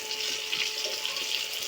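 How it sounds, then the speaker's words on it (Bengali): Potato pieces frying in oil in a home kitchen, a faint, even sizzling hiss that holds steady throughout. "সেই আলুগুলো এখন আমি ভেজে নিচ্ছি ভালো করে"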